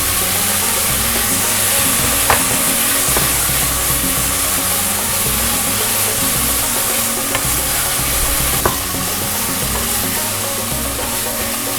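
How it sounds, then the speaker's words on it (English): Pounded spice paste sautéing in oil for an Indonesian Sulawesi-style squid dish, a loud continuous sizzle near the mic with a few sharp clicks of a utensil against the pan, no voices. "Then we're gonna saute the spices that we pounded."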